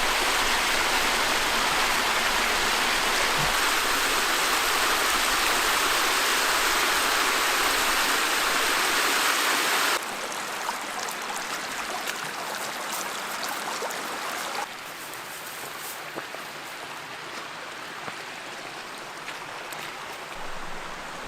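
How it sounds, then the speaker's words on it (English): Dude Creek streaming steadily on Arizona's Mogollon Rim, a broad rushing wash of water heard up close, loud and continuous, softening slightly partway through without any voices. "I believe this is Dude Creek."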